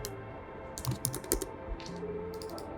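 Typing on a computer keyboard while entering a command in 3D modelling software, with quick bursts of close, crisp key clicks separated by short pauses.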